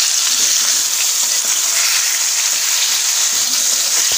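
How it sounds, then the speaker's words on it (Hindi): Marinated mutton coated in garlic, ginger and green chili paste sautéing in a hot pan: a loud, continuous, close hiss of frying that stays even throughout, with no voices. "अब इसकी हमने भुनाई करनी है।"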